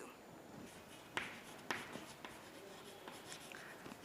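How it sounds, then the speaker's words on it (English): A pen scratches across paper while an accounting entry is written. The strokes are soft and close, with a few sharper taps and scrapes over low room hiss, and no one speaks. "In Arun Desai's account, I should write by purchases."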